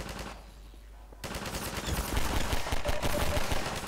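Gunfire in the video game Half-Life 2 Episode One, a loud rapid burst of automatic fire starting after a brief quieter moment and continuing densely to the end.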